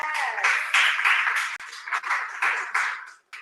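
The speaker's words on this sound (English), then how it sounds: "Give them a round of applause for getting the word out." Crowd at an outdoor voter and National Coming Out Day rally claps and applauds in bursts that rise and dip, with a few cheers mixed in before it tapers off.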